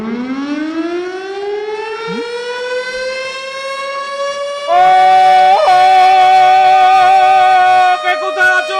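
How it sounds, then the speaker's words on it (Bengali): A wailing siren rises slowly in pitch and holds a loud sustained tone before ending, sounding alone and close. "হ্যাঁ সিস্টেম, লাল বাতি অন কর, সাইরেন বাজা।"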